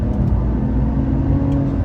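A race car engine drones steadily at high revs while accelerating flat out on a circuit, a sustained mechanical whir with no voices over it.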